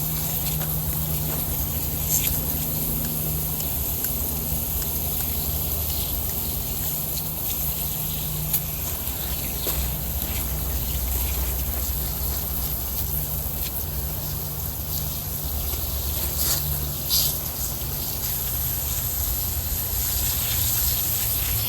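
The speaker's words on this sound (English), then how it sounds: "Whoa, this hose is busted." A burst garden hose in a vegetable garden sprays and gushes continuously, a steady loud hissing rush that holds for over twenty seconds with no talking.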